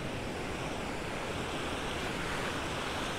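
Ocean waves surge against the rocks at Cape Naturaliste, a constant loud roar of surf and wash mixed with wind buffeting the microphone, with no voices.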